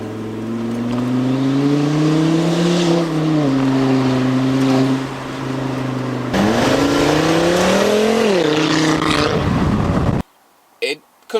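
A Volvo inline five-cylinder exhaust accelerating, with a steady low engine drone that rises in pitch through the gears and shifts partway through. It is loud and close, with someone talking over it, and it cuts off abruptly near the end.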